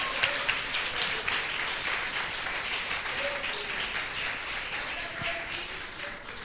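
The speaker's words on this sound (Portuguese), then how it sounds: "Glorifica Ele com as suas palmas." A church congregation applauding together, a sustained wash of many hands clapping at moderate distance, steady and gently fading toward the end.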